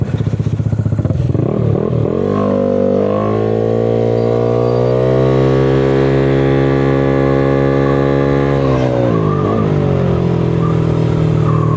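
Motorcycle engine revving hard close by, rising from idle into a long sustained high rev that holds steady before dropping back down, loud and alone without talking.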